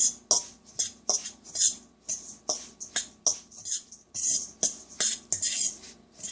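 A spoon stirs a za'atar and sumac spice mixture in a bowl, rhythmic scraping clinks repeating about twice a second, close and crisp with no talk.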